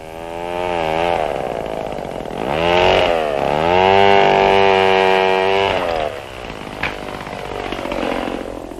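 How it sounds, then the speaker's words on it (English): A chainsaw runs loud and close in a German forest, its engine revving up and down in surges as it cuts root flares off a felled tree, easing off near the end. "The chainsaw smoothly and easily removes the root beginnings."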